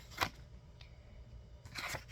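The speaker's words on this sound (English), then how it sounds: "so let me shuffle" Tarot cards being shuffled by hand, two short crisp riffling bursts separated by a quiet pause, close and fairly soft.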